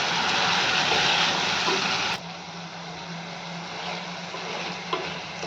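Spice paste fries and is stirred in a pan. A loud, dense hissing sizzle dominates the first two seconds, then settles into a quieter steady bubbling with a soft clink near the end.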